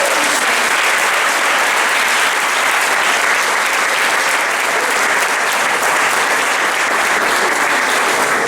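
A church congregation claps loudly and continuously, a thick even wash of many hands that holds steady from start to finish with no voices standing out.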